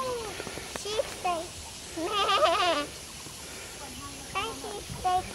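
Sheep or goats bleat at a ranch, several wavering calls close by over outdoor noise, with children and adults talking around them.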